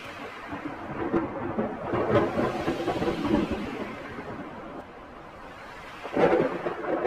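Heavy rain pours steadily while rolling thunder rumbles through, with a louder crack of thunder bursting near the end.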